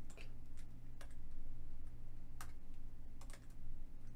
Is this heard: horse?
no